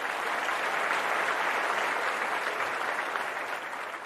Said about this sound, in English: Ryan, let me give him some applause first of all, man.